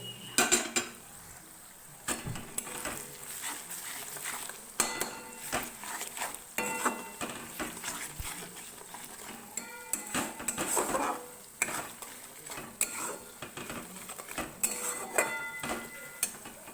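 Powdered spice masala of turmeric, Kashmiri chilli, cumin and coriander being stirred in a pan for paneer masala, with a steady run of soft scraping and clinking of a spoon against the metal, close and moderately loud, with no talking.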